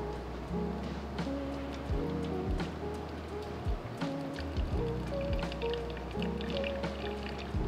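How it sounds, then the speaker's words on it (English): Hot water poured over coffee grounds during single-pour pour-over brewing, a continuous liquid trickle with drips and gurgles, close by, with low background hum and occasional kitchen clatter. "that's when you work your way around the sides and then start pouring harder"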